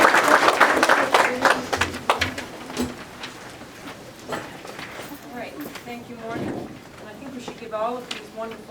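Audience at a 2017 poetry slam applauding the poets, the clapping loud at first, then thinning and fading while a voice talks over the tail.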